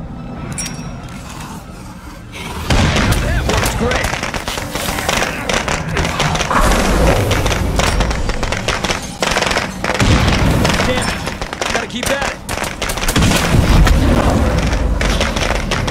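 An explosive detonating in the video game State of Decay 2: a sudden loud blast breaks a quiet stretch, followed by sustained rattling bursts and booms, with a brief spoken voice line.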